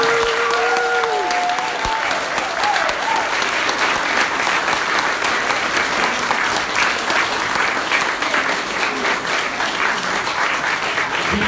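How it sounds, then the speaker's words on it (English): Sustained applause from an awards ceremony audience, dense steady clapping filling the room for the whole stretch, with brief voices faintly audible at the start. "Clapping"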